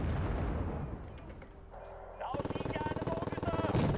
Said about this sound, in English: We got artillery coming in from their base